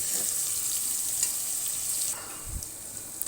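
Onions softening in a pan for Sindhi biryani give a steady, close hiss of frying with faint scrapes of stirring, and the sizzle eases partway through.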